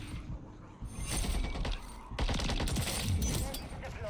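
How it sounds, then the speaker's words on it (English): Sustained gunfire in a military shooter video game, a dense fusillade of rapid shots and mechanical clatter close by, with brief voices calling out between the bursts. "Taking effective fire!"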